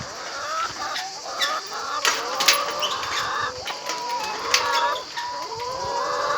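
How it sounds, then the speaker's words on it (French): Hens that lay blue eggs cluck and chatter close by on dry, arid ground, a busy overlapping flock with sharp squawks and occasional louder calls, no talk. "Voilà les poules."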